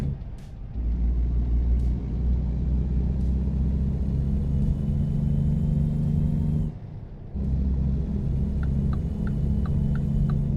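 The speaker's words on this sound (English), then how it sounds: "I love the sound of this 5-cylinder with straight pipes" A five-cylinder car engine with straight pipes in a driving video game produces a loud, low, steady rumble that drops out briefly midway and then resumes, with faint clicks near the end.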